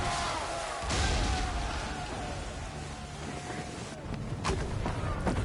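Mortar artillery fire in Assassin's Creed III: heavy booms land around a fort, with one blast early and a cluster of sharp detonations later, over rumbling battle noise and a voice.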